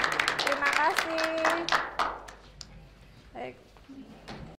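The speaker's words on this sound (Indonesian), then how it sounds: "Tepuk tangan buat kelompok kita." A classroom group of students receives brief applause, rapid overlapping hand claps near and loud at first, then thinning out and fading, with voices talking over and after it.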